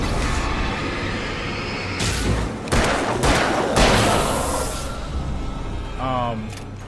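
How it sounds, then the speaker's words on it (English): Shotgun blasts from the Alan Wake video game crack out in a loud, close cluster of several shots with rumbling decay over steady background noise, followed by a short rising electronic tone. "That's just what I don't like about the shotguns, period."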